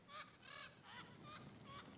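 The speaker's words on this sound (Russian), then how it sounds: "Птички надо мной смеются." Birds in Uncharted 2, in the Borneo chapter, give a string of five nasal, honking cackles in a regular rhythm, fairly close and fairly loud over a faint ambient background.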